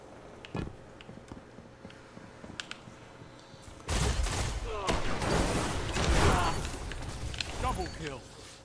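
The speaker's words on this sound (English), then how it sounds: "now he decided to switch to a shotgun" Shotgun blasts in the video game Destiny, a few sparse shots followed by a dense burst of heavy gunfire and booms from about four seconds on, loud and continuous.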